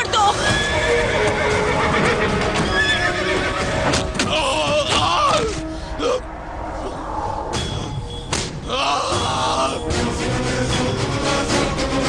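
A wild horse neighs and whinnies loudly in a dramatic movie scene, with repeated calls, hoof clip-clops and thuds over a dense, dramatic soundtrack throughout.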